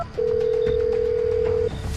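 A single steady telephone ringback tone, a call being placed on a phone, holds one long unbroken beep for about a second and a half over faint background noise.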